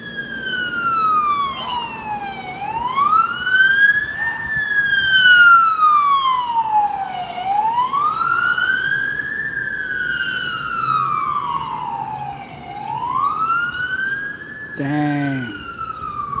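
Emergency vehicle sirens wail on a road, rising and falling in long sweeps, loud and continuous over traffic rumble, with a short sharp burst near the end.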